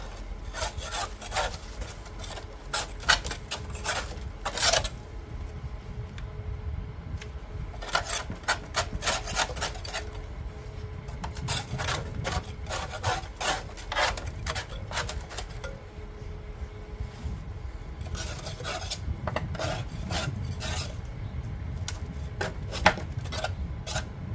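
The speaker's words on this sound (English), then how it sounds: "I found what works best to clean this up is just a putty knife." Close, steady scraping of a putty knife across a John Deere mower deck in rough shape, bursts of gritty rasping strokes separated by short pauses, with no voices.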